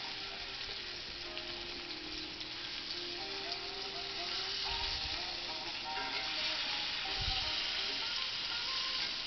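Liver sizzles and crackles in a hot pan, a steady close frying hiss with a couple of soft thumps, no one speaking.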